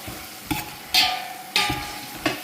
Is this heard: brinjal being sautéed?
yes